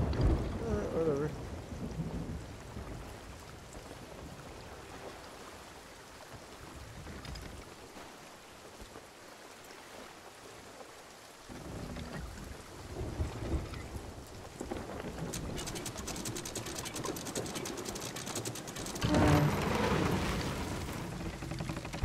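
Rain falls in a steady hiss, broken by deep rolling thunder and heavier bursts of downpour that swell and fade over time.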